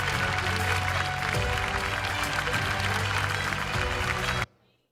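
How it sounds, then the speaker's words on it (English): Audience applause at a design awards ceremony, dense and steady clapping from a large crowd that cuts off abruptly just before the end. "Can we please clap louder and appreciate their victory?"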